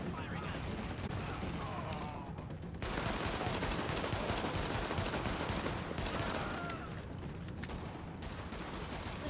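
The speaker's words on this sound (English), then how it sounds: "Why are you shooting at my friend and not me," Continuous gunfire from a firefight in The Division, a dense rattle of automatic shots running the whole time, loudest in the middle stretch, with a voice talking over it.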